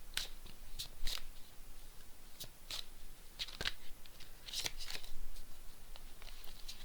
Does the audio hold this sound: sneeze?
no